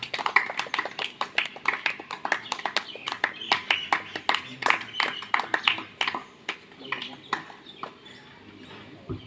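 A church festival congregation claps in scattered, uneven applause, sharp hand claps coming thick for several seconds before thinning out and fading, with faint voices underneath.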